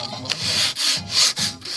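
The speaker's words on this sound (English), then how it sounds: "when you're sanding, you want to be sanding" Wood sanded by hand along the grain for a cane, giving three rhythmic scratchy strokes with brief pauses between, close and clear.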